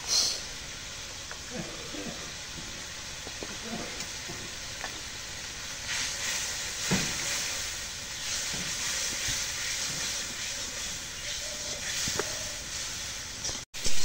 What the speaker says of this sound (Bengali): এখন পেঁয়াজ মরিচ তেল ভাজা হয়ে গেছে, এখন তরকারি ভাজিটা দিয়ে দিই।